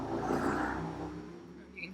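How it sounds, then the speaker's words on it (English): A motorcycle rumbles past, swelling then fading away as a voice talks over it. "you can hear that motorcycle going by."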